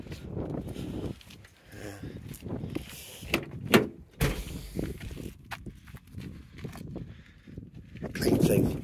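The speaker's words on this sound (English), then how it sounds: "Twin power doors." Twin electric power sliding doors on a van whirring and rolling along their tracks, with thuds and clunks as they close, heard up close while someone talks over them.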